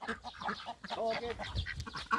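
Chickens and ducks kept together with rabbits in one farm pen give soft, faint clucks and quacks in a short, scattered burst.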